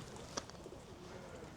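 Pigeons or doves coo softly around a town in Tunisia, a faint low cooing with one brief louder note against quiet background ambience.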